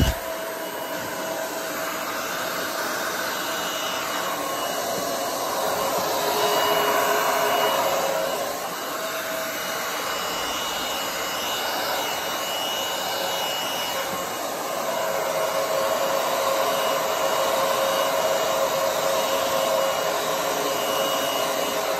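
Air is blown steadily onto acrylic paint during a Dutch pour, making a continuous loud rushing hiss like a blower or hair dryer that swells and dips slightly over its length, with no talk.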